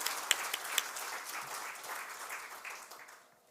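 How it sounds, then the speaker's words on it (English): At the stock listing ceremony of Digikore Studios Limited, an audience delivers a round of steady applause that fades out toward the end. "Once again, a big round of applause for Digikore Studios."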